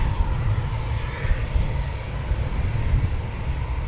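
Military aircraft taxiing at RAF Coningsby during a NATO exercise, a steady low engine rumble and drone held at a distance without pause, moderately loud, no talking.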